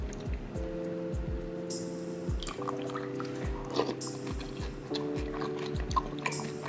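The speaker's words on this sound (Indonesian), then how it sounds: "Kita siram susu yang dingin ya." Cold milk being poured over oatmeal and Froot Loops, heard as a soft, close liquid stream over a rhythmic background of repeated thumps and tones.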